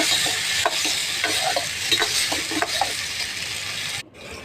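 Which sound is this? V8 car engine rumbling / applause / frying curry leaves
frying curry leaves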